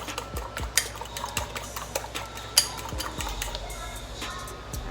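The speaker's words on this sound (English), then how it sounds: "I'm going to mix this up really nice. Okay, so you can get your batter and everything going." A utensil mixes batter in a bowl for fried tilapia, giving scattered close clinks, taps and scrapes against the bowl with no talking.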